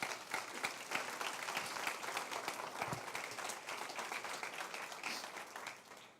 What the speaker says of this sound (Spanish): Denle un aplauso al Señor en eso,